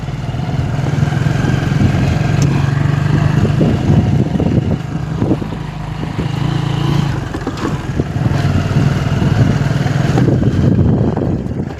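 A motorcycle engine hums steadily and close as someone rides off on a bike to fetch tea after work at a godown, the low drone continuous throughout with slight swells.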